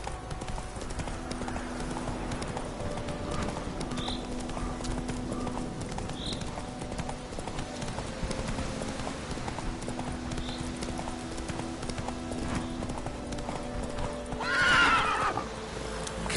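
Horse hooves clip-clop steadily at a gallop in The Witcher 3, with a whinny and neigh rising near the end over a constant game background of ambient sound and music.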